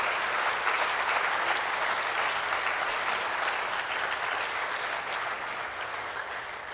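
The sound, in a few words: audience applause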